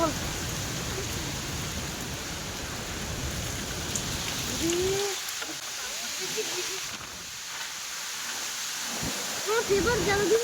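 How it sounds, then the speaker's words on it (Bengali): Steady heavy rain hisses across the whole stretch during a Kalbaishakhi storm, with faint voices and a few brief tonal sounds surfacing now and then beneath the downpour. "ঝড় উঠেছে"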